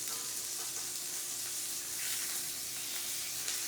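A steak sears in a hot pan with a constant, close hiss of sizzling fat that holds steady throughout, with no voices.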